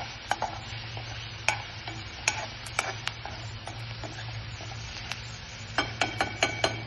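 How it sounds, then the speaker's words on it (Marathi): Green chillies sizzle steadily in a hot pan, with a spoon scraping and stirring in short, sharp strikes that cluster more densely toward the end, all fairly close and with no voices. "आता ह्याला टाकून असं थोडंसं मिरची खरपूस होऊ द्यायची"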